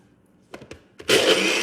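A blender blitzing frozen pineapple for a piña colada dessert: a few clunks as it is set up, then the motor roars on loud and steady, churning close by.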